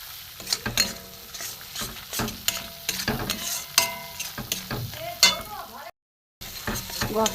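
Spiced masala frying in oil for Kashmiri paneer, stirred with a utensil in a pan; a steady sizzle runs under repeated scraping strokes, with a brief dropout near the end.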